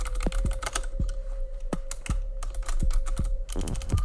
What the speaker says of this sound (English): You're just going to type in restart.